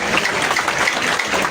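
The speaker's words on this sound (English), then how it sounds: "I'll ask each of us to clap for our able panel" Audience clapping for a panel at an outdoor political manifesto presentation in Kavule, a steady dense patter of many hands held at an even level throughout.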